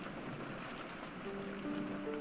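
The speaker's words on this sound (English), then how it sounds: "listening to the sound of the rain" Steady rain falls in a continuous soft wash with scattered drop patter, heard alone at low level throughout with no voices.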